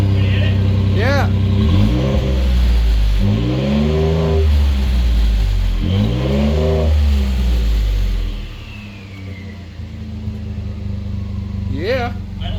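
A Ford F150 with an aftermarket exhaust and turbo revs repeatedly, deep rising and falling engine pulls with a whistle on top, loud and close, then settles to a rumbling idle before another short blip.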